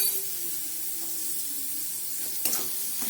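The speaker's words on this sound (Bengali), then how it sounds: "নুনটা দিয়ে খুব ভালো করে ভেজে নিচ্ছি।" Snake gourd and grated coconut frying with salt in a pan, giving a steady soft sizzle and hiss throughout, with a brief louder scrape or stir near the end.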